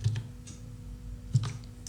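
Typing on a computer keyboard while writing Python string code, with a couple of soft clustered key clicks over a faint steady hum, quiet and close.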